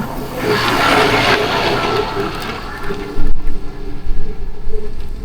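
Steady roaring wind on a coastal road in Calape, Bohol, buffeting the microphone, loud and close, with gusty thumps growing choppier toward the end.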